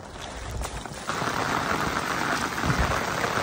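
Heavy monsoon rain falls in Konkan near a village pond, a steady broadband hiss that swells and thickens after the first second and then holds constant and fairly soft, with no voices.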